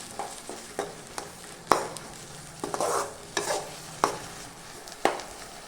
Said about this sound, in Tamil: இந்த தக்காளி, பூண்டு, வெங்காயம் இதெல்லாம் நல்லா வதங்கி வரட்டும்.